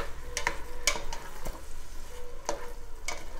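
Smoked tomatoes cooking in oil and butter in a pot, a soft close sizzle broken by a few clinking stirs and spoon taps, with no talking.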